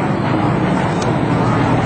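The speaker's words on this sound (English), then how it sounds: "And the P-38 Lightning." A P-38 Lightning warplane flying past at an air show, heard as a steady, fairly loud broadband engine roar that holds for just under two seconds.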